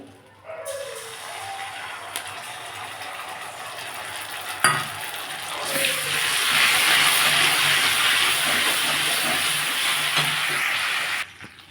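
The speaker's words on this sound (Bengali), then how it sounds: "আমি এর মধ্যে একটু কাঁচা লঙ্কা দিয়ে দেবো আর একটু চিলি সস দিয়ে দেবো" Garlic sizzles in hot oil in a pan, with green chili and chili sauce added; a steady close frying hiss swells louder about halfway through and runs on with no talk.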